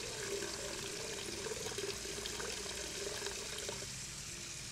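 Water running into a bucket in the video game Hello Neighbor, a steady continuous splashing pour that holds at an even level throughout, with no talking.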